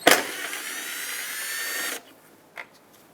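A power ratchet or drill-type tool whirs loudly for about two seconds while backing out a 10mm bolt from the headlight bracket of a 2014-2021 Mazda 6, then stops, followed by a brief light clink.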